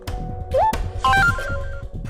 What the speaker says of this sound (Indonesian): Malah handphone Mama yang bunyi.